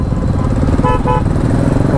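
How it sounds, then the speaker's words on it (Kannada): A car-type horn fitted on a motorbike gives two short honks in a row, heard over loud, steady road and engine noise on a dangerous hill road in Kallatti, Tamil Nadu. "ಅವನು ಯಾರು ಬೈಕಿಗೆ ಕಾರ್ ಹಾರನ್ ಹಾಕೊಂಬಂದ್ಬಿಟ್ಟು"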